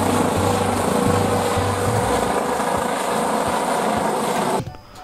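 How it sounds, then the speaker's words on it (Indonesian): A helicopter among children's collectible toys gives a loud, steady whirring rotor-and-engine drone with a pulsing low throb, which stops abruptly near the end. "ini ada helikopter"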